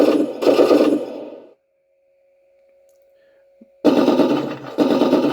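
Rapid electronic machine-gun fire from a 1/16 scale radio-controlled IDF M51 tank comes in two loud bursts, separated by a quiet stretch with a thin steady electronic hum.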